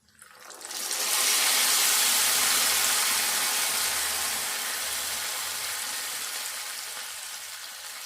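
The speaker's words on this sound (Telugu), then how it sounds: "ఇప్పుడు ఈ పప్పు ఈ తాలింపులు వేసుకుందాము" Hot oil tempering with fried garlic, poured into cooked chukka kura (sorrel leaf) dal, erupts in a loud sizzle that swells within a second, then hisses steadily and slowly fades, heard alone.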